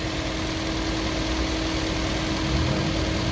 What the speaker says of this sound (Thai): ที่ตัวไดชาร์จนะมีเสียงหอนอยู่